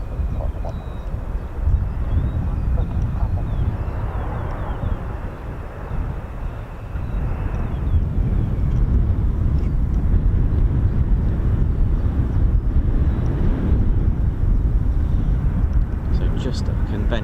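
An F-35B fighter jet making a conventional landing at RAF Marham, heard as a loud, continuous roar that swells and rumbles throughout, with a voice talking over it.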